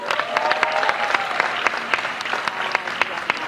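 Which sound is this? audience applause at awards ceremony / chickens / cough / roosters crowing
audience applause at awards ceremony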